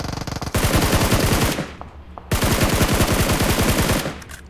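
Automatic gunfire in the battle-royale game PUBG Mobile: two long, loud bursts of rapid shots, the first after a brief lead-in and the second following a short quiet gap, with no talking.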